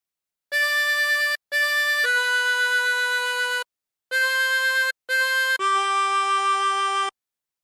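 A 24-hole tremolo harmonica plays the opening of Silent Night in clear, reedy sustained notes, grouped into two phrases of short and long tones separated by brief breaths, with no talking.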